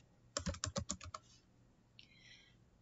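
Quick burst of about seven crisp keystrokes on a computer keyboard, close and quiet, followed after a pause by a softer short clatter, in a quiet room with no talking.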